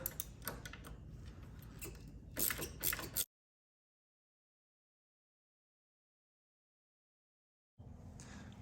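A ratcheting wrench, paired with a hex bit, loosens floorboard bolts on a 2016 Harley-Davidson, giving a close run of rapid mechanical clicks. The clicking breaks off into silence, then resumes briefly at the end.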